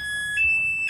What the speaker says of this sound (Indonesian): Ini alarm bunyi.